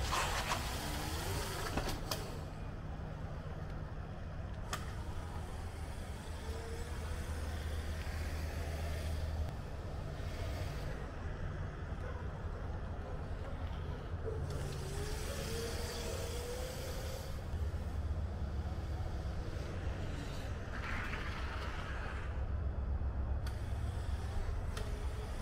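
Razor MX650 electric dirt bike, upgraded with an 1800W motor, 48V battery and new controller, on a test ride: a steady broad motor and rolling rumble with wind noise, fairly constant in level throughout, with no talk.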